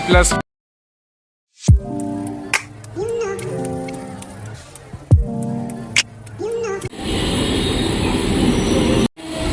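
A train at Madhyamgram railway station, with rumbling and bursts of rushing noise from the rail, heard amid people and children talking nearby, the passing noise swelling loudly toward the end.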